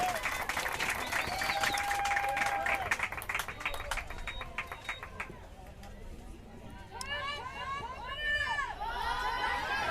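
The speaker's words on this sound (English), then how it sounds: "The fans, they're definitely out here cheering on their teams." Softball fans at a championship game cheering and clapping, with loud applause in the first half fading into scattered crowd noise and shouts, while a voice talks over the scene.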